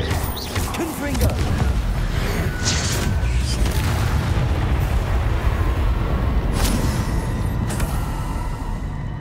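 Confringo fire spell blast from the Hogwarts Legacy video game, a dense rumbling boom that swells quickly and holds as a loud, sustained roar with crackling mechanical textures over about nine seconds.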